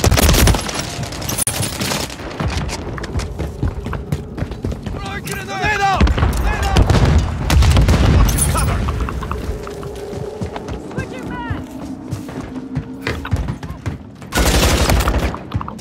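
Rapid bursts of gunfire and explosions in a Call of Duty battle, with dense volleys and booms throughout and a loud blast near the end, while soldiers shout over the combat.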